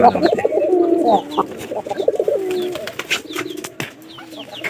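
Pigeons coo loudly and close by in deep, rolling, repeated calls. Softer coos and faint rustling and fluttering follow.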